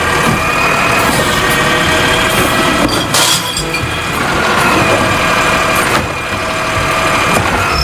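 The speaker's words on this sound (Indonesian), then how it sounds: "ini mobil truk mengangkut sampah" A garbage truck's engine rumbles loudly and steadily nearby, with a constant idling drone and faint clinks on top, and no talking.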